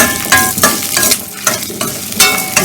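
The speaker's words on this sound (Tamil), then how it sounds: "நல்லா வதக்கிக்குவோம்." Chopped onion and garlic sizzle and fry in a pan for chutney while a spoon stirs and scrapes steadily, the sizzling close and continuous with rhythmic stirring strokes.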